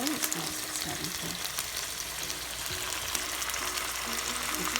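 Hot oil bubbling and sizzling in a pan as chicken pieces begin to fry for penne alla vodka, a soft, steady crackling hiss with faint background voices.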